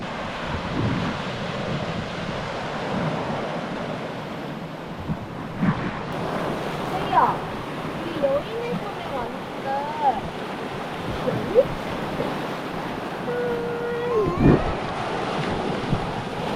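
Ocean waves wash steadily onto a beach on Isla Mujeres near Cancun, with continuous surf close by and wind buffeting the microphone. Voices speak intermittently over the water.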